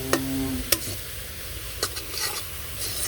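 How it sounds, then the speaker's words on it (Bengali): Leafy greens fry in a pan with salt, turmeric and chili, a soft steady sizzle broken by several sharp scrapes and clinks from a stirring utensil. "তো ভালো করে শাকটা ভেজে নিই।"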